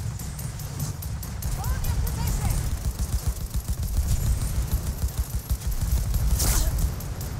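Gunfire in the video game Cyberpunk 2077, a fast rhythmic burst of repeated shots running through most of the stretch amid dense game noise and a short bright blast, with no voice over it.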